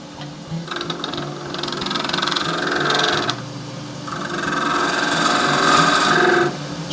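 A wooden shaving brush handle spins on a wood lathe as a tool cuts it, giving a steady whirring drone with scraping bursts that swell and ease over several seconds.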